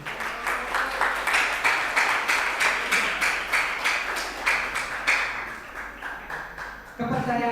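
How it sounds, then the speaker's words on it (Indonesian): An audience at a communication-skills training session claps in a steady, rhythmic beat of sharp claps for about seven seconds, then the applause stops and a voice begins speaking. "Tepuk tangan dulu."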